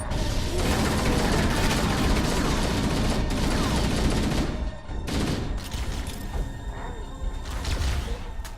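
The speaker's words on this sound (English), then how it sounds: "This sends a grenade down into them." Grenade blasts and rapid gunfire hit a group of elites in the Halo shooter, a dense, loud barrage of crackling shots and explosions that drops briefly before resuming.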